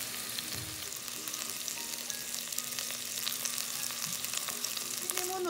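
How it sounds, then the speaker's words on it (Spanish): Diced bacon fries in a pan, a steady close hiss and sizzle with small crackling pops, with no talking. "Tocino partido, miren, en cuadritos. Y vamos a dejar que se dore, que esté bien doradito."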